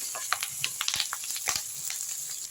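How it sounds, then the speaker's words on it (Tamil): Rajma bean masala sautéing with curry leaves in a hot pan, giving a steady close sizzle with scattered crackles and pops and occasional stirring scrapes. "நல்லா வதக்கி விட்டுருங்க."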